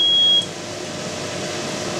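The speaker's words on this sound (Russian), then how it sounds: "Кто сказал пип? Духовочка." A single high electronic beep from a kitchen oven timer while chicken Kiev cutlets cook, short and clear, cutting off to leave a quiet room hum.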